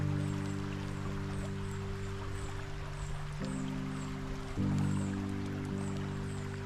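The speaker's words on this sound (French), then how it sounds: "Voilà, il tombe des petites gouttes." Light rain falling outdoors in a natural spot in the Var, with soft scattered drips and a gentle wash of water over a steady low hum, no talking.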